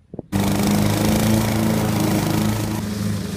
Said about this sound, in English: I'm rolling with the Honda HRR 216, also known as the Jungle Master